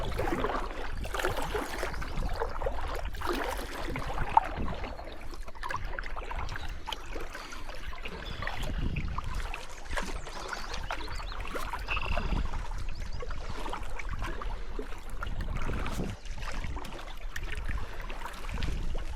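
A kayak paddled upriver at Glendalough State Park, soft rhythmic paddle strokes and water sloshing against the hull under a low rumble of wind, steady and close throughout with no voices.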